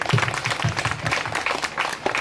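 Applause from an audience at a priest's silver jubilee celebration, a dense steady patter of many hands clapping throughout, fairly close and loud, with a faint murmur of voices beneath.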